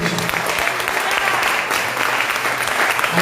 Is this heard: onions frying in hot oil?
no